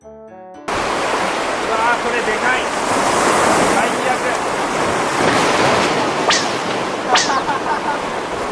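Ocean surf washing onto a shore on a remote island during a fishing outing, a loud, steady roar of breaking waves that continues without pause, with a couple of sharper splashes near the end.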